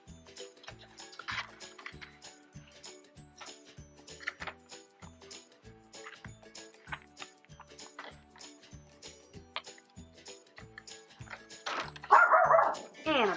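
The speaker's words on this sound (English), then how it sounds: "My little Yorkie girl, she's sassy." A sassy female Yorkie barks repeatedly indoors, sharp yaps in a quick regular series with a louder burst near the end, while someone talks over it.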